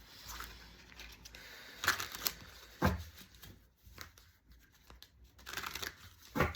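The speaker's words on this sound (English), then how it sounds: "I'm noticing while I'm shuffling, it's taking me a long time to actually start shuffling and get some cards." Tarot cards being shuffled by hand, with soft riffling, flicking and rustling bursts coming in uneven clusters, fairly close and quiet, with no talking over them.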